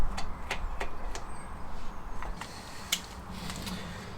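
13mm rocker cover bolts on a classic Fiat 500 engine being tightened: soft metallic clicks and ratcheting creaks repeat irregularly, close up over a low background hum.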